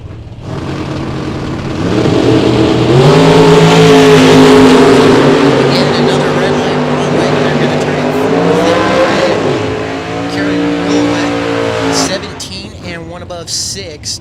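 A 1967 Camaro drag racing car launching down the strip at a bracket race, its engine roaring loud and close with rising, shifting revs before easing off, while a voice talks over it.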